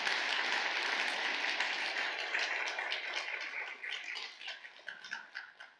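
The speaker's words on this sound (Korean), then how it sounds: "이국지 권사님 위해서 한번 우리 격려의 박수 한번 올려드리겠습니다" A church congregation claps in encouragement during a worship service, a dense, moderately distant round of applause that gradually thins and fades out.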